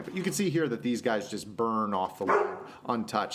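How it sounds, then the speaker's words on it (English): Someone talks steadily in the foreground while a dog barks repeatedly in the background, its yaps mixing with his speech. "Sorry if you can hear my dog barking in the background"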